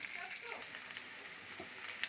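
Salted, turmeric-coated potatoes frying in a pan for aloor dum, a faint, even sizzle with light crackle throughout.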